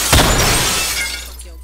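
Glass shattering in the Roblox game Phantom Forces, one sharp crash followed by a spreading, fading tinkle of fragments, fairly loud and close.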